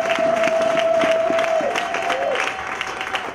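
A church congregation claps for the pastor after the sermon, a short burst of applause with some cheering mixed in. A sustained tone rings through it, and the clapping fades toward the close.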